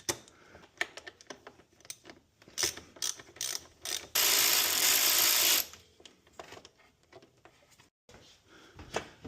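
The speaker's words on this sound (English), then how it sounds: "So just got to loosen up these two bolts here." A hand ratchet loosens bolts on the charge pipe of an A90 Supra, giving rapid bursts of close, crisp clicking that start and stop, with a loud hissing rush in the middle and quiet pauses between.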